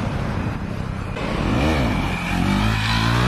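A Kawasaki H2 motorcycle revs hard while popping a wheelie, its engine note rising and falling in loud sweeping surges close by, with a steady roar between the peaks.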